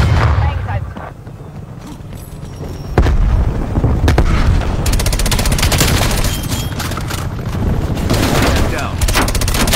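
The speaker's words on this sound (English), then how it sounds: "Stun grenade out." A stun grenade goes off in a video game firefight, with sharp bursts and rapid gunfire crackling loudly among near and distant shots, and a voice talking in the middle.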